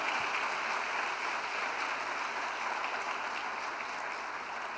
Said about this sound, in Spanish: Vamos a darle ese aplauso fuerte al Señor.